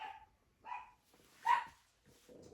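Dogs bark in a few short separate bursts over about two and a half seconds, fairly close and moderately loud, with quiet gaps between them and no speech.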